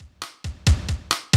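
A cheap old junky computer from a Nintendo DS/Wii game plays music badly: six choppy, stuttering bursts of harsh buzzy tone, separated by brief dropouts, loud and close with no talk.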